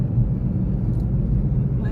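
Car traffic rumbles through a small city in Lesotho, a steady low engine drone from passing vehicles with no distinct horn, continuous and fairly loud throughout.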